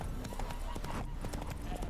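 A horse's hooves clop rhythmically in the video game The Witcher 3, a steady trot heard fairly close amid game ambience, with speech-like sound mixed in.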